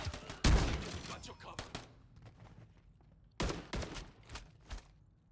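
Gunfire from several players in a sniper-focused video game, heard as bursts of loud shots and rapid fusillades, with a heavy blast near the start, then scattered shots and a second cluster of sharp volleys later.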